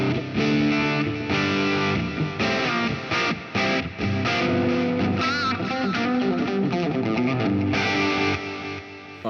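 An electric guitar plays heavily distorted chords and single notes through a pushed preamp, with its gain raised, and a Plethora X5 effects pedalboard. The tone stays thick and sustained, with picked accents and short breaks, and fades slightly at the end.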